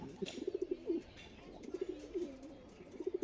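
A pair of Sabji Homa pigeons coo nearby in soft, rhythmic bursts, several short phrases repeating over a quiet background.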